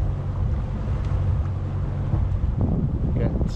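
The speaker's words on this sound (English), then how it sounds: "I've now got the engine on." A sailboat's auxiliary engine runs steadily on a near-windless fjord, a continuous low drone with wind buffeting the microphone and faint water sounds, no one speaking.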